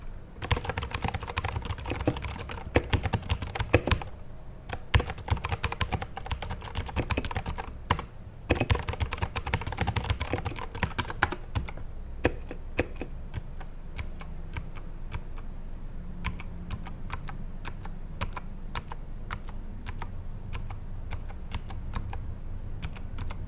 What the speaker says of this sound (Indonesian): suara keyboard yang renyahnya ya.